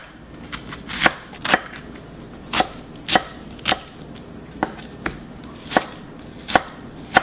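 Knife chopping onion on a cutting board while preparing jjajangmyeon vegetables, a series of sharp, irregular chops up close with no talking.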